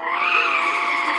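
A toy race car skids with a loud, continuous tire squeal lasting just over a second, sustained and close with no talking over it.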